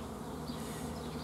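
Honeybees crawling over a hive frame as young bees emerge from their cells, a dense steady buzzing close by with no talk.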